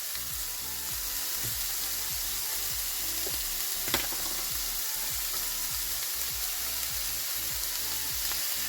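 Minced garlic frying in a pan for a low-carb Mexican one-pan dinner, a constant bright sizzle with a quick pulsing rhythm of stirring strokes throughout, close and even, with a single clink near the middle.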